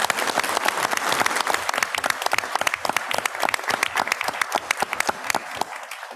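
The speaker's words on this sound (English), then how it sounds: "let's give them a huge round of applause." A board of education meeting audience applauds students with a loud round of clapping, sharp individual claps dense and steady throughout before thinning slightly at the end.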